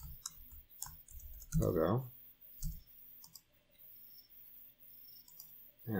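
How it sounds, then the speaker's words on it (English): Quick bursts of keyboard clicks, close and crisp, with a brief spoken word partway through. "Typing too fast."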